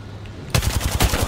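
Rapid automatic gunfire from another team in Apex Legends, a fast rhythmic burst of close, loud shots starting abruptly and rattling on steadily, with no talk over it.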